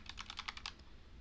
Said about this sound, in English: let's just write random letters,